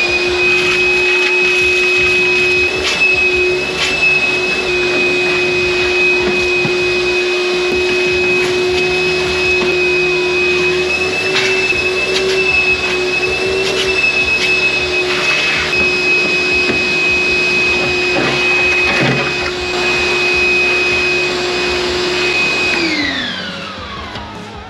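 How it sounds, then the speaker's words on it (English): A vacuum cleaner runs continuously in the trunk of a 1967 Ford Mustang Fastback with a steady high whine, loud and close, with bumps and shifting suction before it powers down at the end. "get the vacuum in here and just vacuum this out a little bit"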